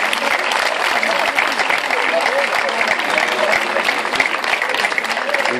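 Loud, sustained applause from a crowd at a neighbourhood fiesta flag-raising ceremony in Barrial de Gáldar, steady dense clapping throughout with no break.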